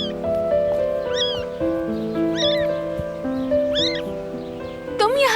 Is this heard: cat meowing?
yes